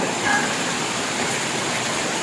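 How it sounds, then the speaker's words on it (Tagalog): Heavy rain pours down at a farm during stormy, overcast weather, a constant hiss of falling water that stays even and unbroken throughout. "malakas yung ulan na yan"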